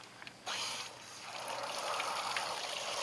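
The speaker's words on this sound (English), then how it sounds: "Well, let me turn the water on real quick." Water suddenly starts rushing from a hose, a steady broadband hiss that holds strong and continuous after a brief quiet start.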